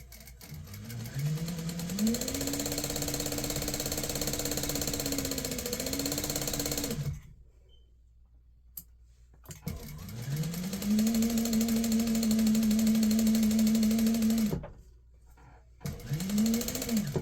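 Sewing machine stitching fabric pieces for a quilt block, running in two long steady whirring bursts with a brief quiet pause between and a short restart at the end.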